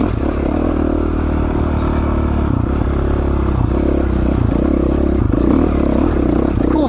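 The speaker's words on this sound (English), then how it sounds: "But the bike is running great as usual." A four-stroke dirt bike ridden on Idaho single track, its engine droning loud and steady throughout with rattling clatter from rough terrain, close up and with no talk.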